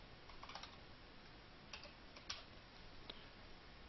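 Someone types a company name on a computer keyboard, giving faint, irregular key clicks in short clusters over a quiet hiss.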